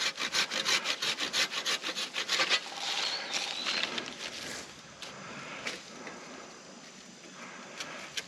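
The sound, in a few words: sawing off a damaged tree top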